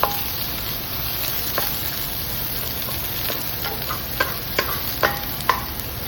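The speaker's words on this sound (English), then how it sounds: "It's getting dry, so I'm gonna add a little bit more oil." Finely chopped lemongrass sizzles steadily in hot oil in a pan for a peanut dipping sauce, with a spatula stirring and scraping in sharper clicks that come more often toward the end.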